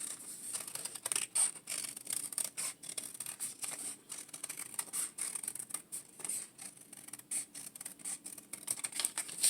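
Scissors work on cardboard scraps up close, producing a steady run of soft scraping, rubbing and snipping noises with an irregular rhythm and no talking.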